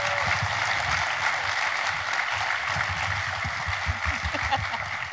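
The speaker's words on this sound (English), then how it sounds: "let's give this incredible family a round of applause." Sustained applause from a conference audience at the 2018 Native American Nutrition Conference for a family, a steady wash of many hands clapping with low rumbling underneath, even in level throughout.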